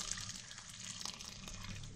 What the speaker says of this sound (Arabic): انا هحط ميه مغليه هغطي بيها وش الفول